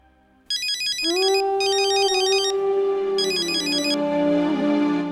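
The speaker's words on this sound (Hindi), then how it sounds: "प्रीति का फोन है।" A phone ringtone plays loudly, an electronic melodic tone with repeating bursts of bright trilling chirps, continuing without any talk.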